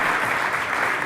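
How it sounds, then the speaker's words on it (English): Dense, loud audience applause for a band on an arena stage at a startup conference, a brief wash of many hands clapping together with no voices. "I want to elicit a big applause for a fantastic band"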